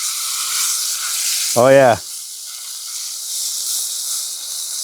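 Pork chops sizzle loudly in an overly hot pan during lakeside van camping, a steady broadband frying hiss running throughout, with a brief spoken exclamation over it.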